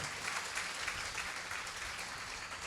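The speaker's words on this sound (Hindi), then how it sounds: "ताली तो बजाओ अच्छे से" An audience claps at a Jain religious discourse, the applause soft and distant, a steady wash of many hands lasting about three seconds with no voices over it.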